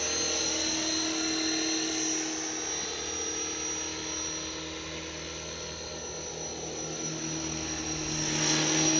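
A radio-controlled model helicopter hovers nearby with a steady, high-pitched whine from its motor and rotor, holding an even drone that swells slightly louder near the end.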